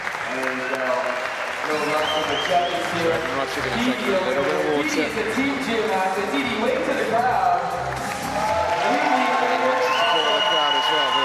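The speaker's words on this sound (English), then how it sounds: "The noise being made here tonight for what would be a relatively small crowd is absolutely amazing" A small but loud crowd at a freestyle trampoline world championship cheers and claps steadily, with a commentator talking over the din throughout.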